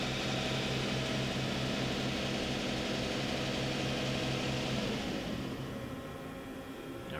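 A Mori Seiki ZL-25B CNC lathe from 1993 with Fanuc 16TT control, its spindle running at 2,000 RPM, a steady loud mechanical whine and hum that holds evenly and then eases slightly near the end.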